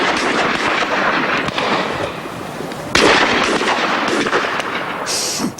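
Rapid volleys of gunshots crack loudly and continuously alongside heavy booming blasts, with no voices over the dense, sustained firing.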